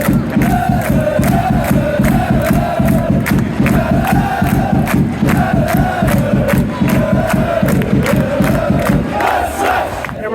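A rowdy football crowd at a Dungannon Swifts versus Vaduz match, loud and close, chanting in a steady rhythm with regular claps or drum beats, massed voices rising and falling continuously.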